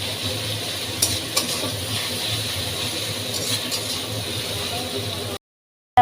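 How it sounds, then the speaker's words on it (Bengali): Garlic paste being stirred in a pan for a hilsa-head and cabbage curry. A steady scraping and sizzling fills the clip with a few clinks of the spoon, then cuts off abruptly. "ভালোভাবে আমি এটা নাড়িয়ে চাড়িয়ে নিচ্ছি"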